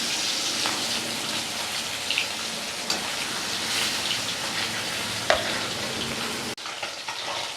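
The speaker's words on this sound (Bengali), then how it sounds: "মাছটা ছেড়ে দিচ্ছি।" Bata fish sizzling in hot mustard oil in a kadai, a steady dense crackle with a few sharper pops, close and loud, easing off near the end.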